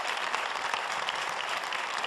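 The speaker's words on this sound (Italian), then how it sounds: "sono io a fare un applauso a voi che siete nostri ospiti in questa puntata" A TV studio audience applauds the show's guests with brisk, continuous clapping that stays even and fairly loud through the whole short stretch.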